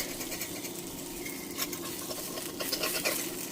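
A spatula scrapes a fried egg from a Lodge seasoned 11-inch cast iron skillet, gritty scraping strokes over a steady sizzle, close and continuous.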